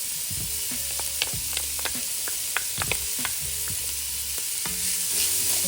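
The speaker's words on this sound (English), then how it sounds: "I'm just going to saute that." Onions and garlic sauteing in a soup pot, a steady soft sizzle with repeated light clicks and scrapes of stirring, close and fairly quiet, no talking.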